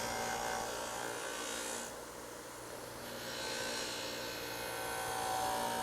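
Eastwood dual speed 1 HP buff motor spins a buffing wheel with compound against metal, a steady whirring buzz that dips briefly in the middle, then swells back up, with no talking.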